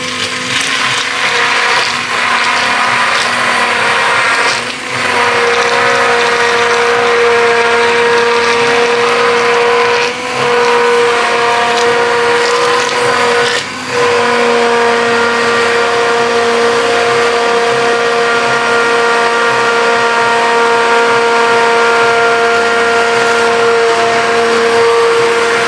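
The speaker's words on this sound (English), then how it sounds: "We can actually blend right now." Blender whirring as it mixes oils and distilled water into a homemade organic base cream for face and body; a loud, steady motor drone runs continuously with a few brief dips, and no one speaks.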